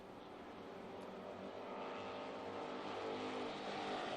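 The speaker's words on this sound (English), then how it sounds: "5 cars breaking away from the rest of the field, all battling up front for position." Eight-cylinder dirt track stock cars race as a pack of five battles for position, a dense, continuous engine roar with rising and falling revs, held at a moderate distance with no talk.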